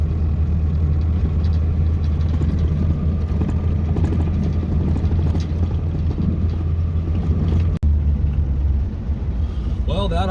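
Loud, steady low diesel rumble of a 7.3L Powerstroke truck hooked to an empty trailer, droning continuously close by with a brief dropout near the end, and a voice talking under the engine.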